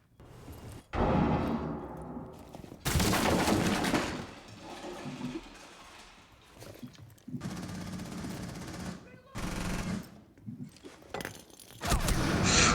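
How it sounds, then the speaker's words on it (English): Gunfire and a grenade blast ring out in a competitive esports shooter match, with loud bursts of automatic fire and booming impacts alternating with quieter gaps. "just in case those bullets didn't do it for him, that nade surely will"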